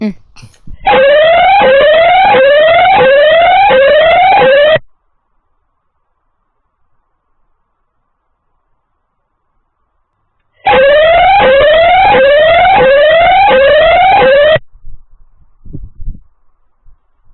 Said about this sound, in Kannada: ಇದರಲ್ಲಿ ಸೈರನ್ ಸ್ಪೆಷಾಲಿಟಿ ಒಂದು ತೋರಿಸ್ತೀನಿ